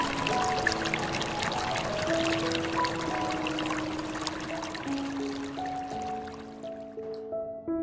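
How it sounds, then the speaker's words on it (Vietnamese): Flowing water of the Krông Vung river, a steady broadband rush with bright splashing running throughout, near and fairly loud, with faint tonal sounds layered over it and no talk. "bây giờ mình đang đứng tại một cái suối"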